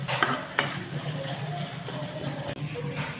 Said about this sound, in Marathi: टमाटर टाकलं आहे टमाटर व्यवस्थित भुनला जातो आहे